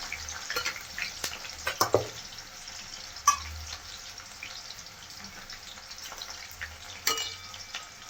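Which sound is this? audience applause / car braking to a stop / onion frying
onion frying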